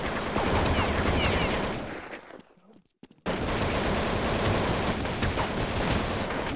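Dense automatic gunfire rattles continuously in a Counter-Strike 1.6 match, cuts off briefly to near silence with a couple of isolated shots, then resumes just as loud and sustained.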